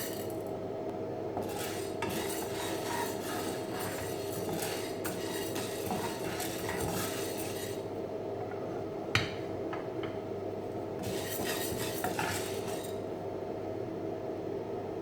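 Urad dal being dry-roasted and stirred in a pan while making pirandai (adamant creeper) podi, heard as a constant scraping and rattling of spoon against metal in bursts, fairly faint with no talking.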